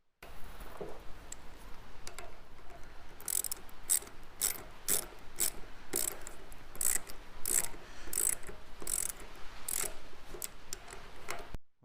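Nylon-insert lock nuts being tightened by hand on a café racer motorcycle frame: a close, steady run of sharp ratcheting clicks in an even rhythm, heard alone without speech.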